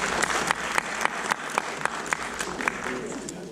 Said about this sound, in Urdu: تو دل بہار کے لیے ایک دفعہ بھرپور تالیاں ہونی چاہیے